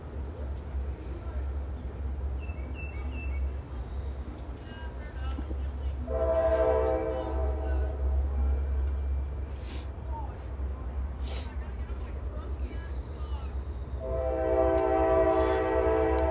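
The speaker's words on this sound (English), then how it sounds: "Sorry for the train in the background." A train rumbles steadily nearby while its horn sounds in two stretches, blaring briefly then again longer near the end, with faint speech in the background.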